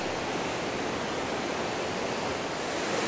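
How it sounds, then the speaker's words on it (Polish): A river flowing from the Gocta waterfall in Peru gives a loud, dense, unbroken rush of water, steady and close with no pauses or voices. "A to już właśnie płynie rzeka z wodospadu."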